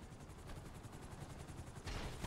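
Rapid, steady volleys of missile fire from a Sparrow helicopter in a video game, a dense rattling stream of launches that swells louder near the end, with no talk over it.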